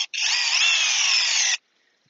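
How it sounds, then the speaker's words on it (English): A Seyvum 12-volt brushless cordless drill on slow speed drives a lag bolt into a log, giving a loud, steady whine with a grinding edge that lasts about a second and a half and then stops abruptly. "We're going to put it down into a slow speed so we can drive this into the log"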